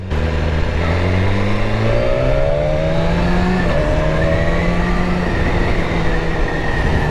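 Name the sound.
motorcycle engine revving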